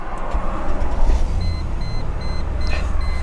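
A flood-damaged Cadillac runs with a steady low engine rumble close by in the cold outdoors, while a faint repeating high beep chimes over it.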